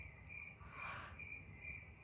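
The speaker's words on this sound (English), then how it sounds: "I love the sound of crickets" Crickets chirping at night in regular, evenly spaced bursts of a shrill trill, faint and steady with a brief louder swell in the middle.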